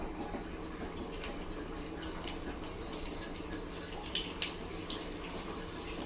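Akki rotti rice flatbread frying in hot oil, a steady low sizzle with a few faint crackles and pops running continuously at moderate distance, with no voices.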